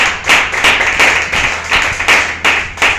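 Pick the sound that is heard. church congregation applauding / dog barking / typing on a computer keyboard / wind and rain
church congregation applauding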